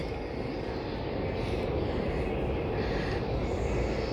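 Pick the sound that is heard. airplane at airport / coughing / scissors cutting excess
airplane at airport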